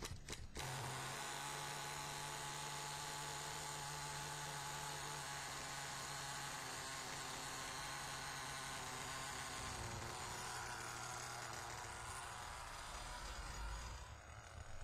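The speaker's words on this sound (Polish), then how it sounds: "Uruchom teraz ponownie silnik." A small block nitro engine in an MT2 RC car runs steadily at close range, a loud continuous high-pitched buzzing whine that holds for the whole stretch with a slight shift near the end.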